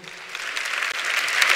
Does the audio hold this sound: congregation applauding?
yes